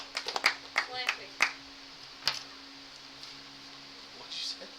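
Scattered hand claps from a small group of people playing a tabletop role-playing game session, several sharp claps in a short burst then a few stragglers, fairly faint, with talk around them.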